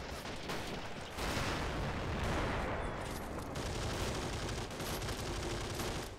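Battlefield fire in the Men of War: Assault Squad 2 game, with a ZiS-3 field gun shelling a tank, comes as dense, loud, continuous rumbling blasts and gunfire filling the whole stretch without speech.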